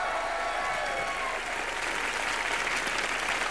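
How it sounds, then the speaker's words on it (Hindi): Studio audience at a live comedy show applauding loudly for Salman Khan, a dense, sustained roar of clapping with crowd noise mixed in. "जोरदार तालियां सलमान भाई के लिए"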